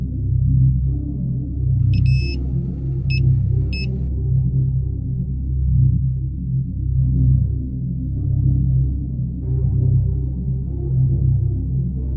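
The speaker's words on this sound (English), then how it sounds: "a manual electronic device, which beeps when its signals detect the presence of metal." A handheld metal detector gives three short, high electronic beeps early on over a steady, pulsing low drone that continues throughout.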